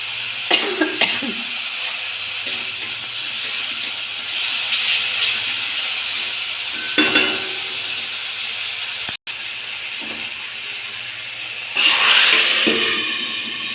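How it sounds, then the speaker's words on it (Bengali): Chopped snake gourd goes into oil-released spice paste in a pan and is stir-fried, with a steady close hiss of frying and scattered scrapes and clinks of the stirring spoon. "মশলাটা তেল ছেড়ে দিয়েছে এবার এর মধ্যে সবজিটা ঢেলে নেব"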